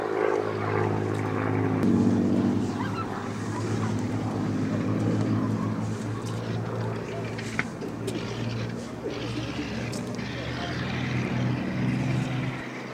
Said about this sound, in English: John Allison will bring the 109 back for a few final passes.